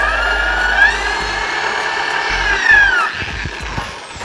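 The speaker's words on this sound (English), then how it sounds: "So I'll go ahead and get that hole drilled right now." A power drill bores a hole through a board for a miter saw flip-top workbench, its motor whining at a steady pitch that rises and dips as it cuts, then winds down into scattered clicks and knocks.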